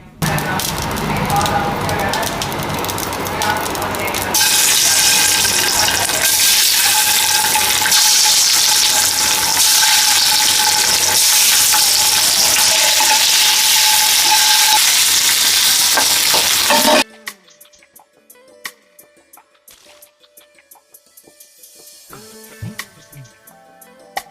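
Boiled eggs frying in hot oil with salt and turmeric, a loud steady sizzle with stirring scrapes that runs for most of the time, then cuts off abruptly to a quiet room with faint clinks.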